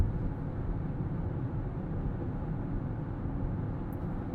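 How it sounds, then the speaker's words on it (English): Steady low tire roar heard from inside a 2020 Chrysler Pacifica cruising at highway speed near other traffic, a constant broadband hum with little wind or engine sound and no talking. "most of what you're hearing is from those tires"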